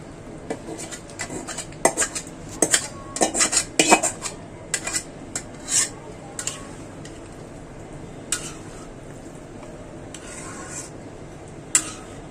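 Mung dal is tipped into a pot and stirred, bringing a run of close metallic clinks, scrapes and taps of a utensil against the pan, irregular and clustered, with quieter gaps between them and no talking.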